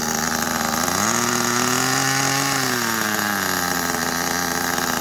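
A gas-powered petrol RC car engine idles close by, a loud, buzzing, steady drone. Its pitch rises briefly when the idle is raised from the remote, then settles back lower.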